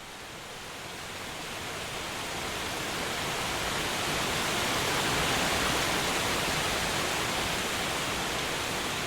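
A steady waterfall roars as a dense, continuous wash of rushing water that swells gently at first and then holds loud and even, with no voices over it.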